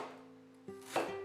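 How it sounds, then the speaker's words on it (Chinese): Peeled fresh ginger being cut into chunks on a board, two or three quick, close knife chops with a woody thud in a short quiet moment. "切成块，大小随意。"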